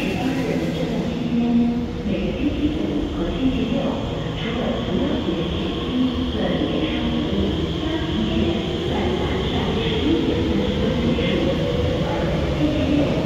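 A first-generation Kawasaki C151 metro train passes close by, with a sustained rumbling roar of wheels on rail, a rising whine as it moves, and faint squeals over the steady rush.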